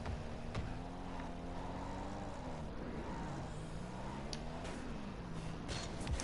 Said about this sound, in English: don't you hate the sound of the Scarab?